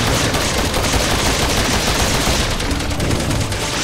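Dense, continuous burst of rapid gunfire aimed at a monster in Resident Evil 6, a steady loud rattle of shots filling the whole stretch with no voices over it.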